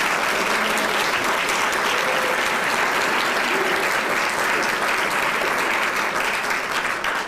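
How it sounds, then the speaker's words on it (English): Audience at an honorary commanders induction ceremony applauds the public affairs team, a loud, dense, steady wash of clapping that holds for several seconds without a break. "Please, a round of applause for the public affairs team."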